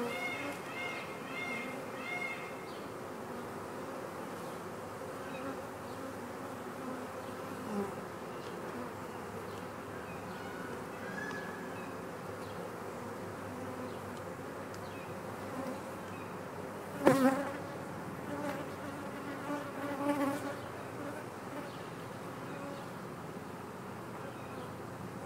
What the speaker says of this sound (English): And then we'll just shake out what bees were left in the box